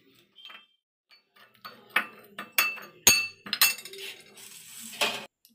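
A spoon clinking against a bowl while mixing a dry spice filling of amchur, coriander and cumin powder for stuffed eggplant, a series of irregular close metallic taps and scrapes with no talk.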